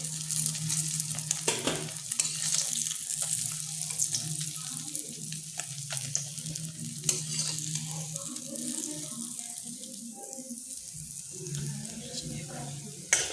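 Fish frying in a pan makes a continuous loud sizzle and crackle throughout, with a low steady hum and occasional scraping clinks, and no voices over it.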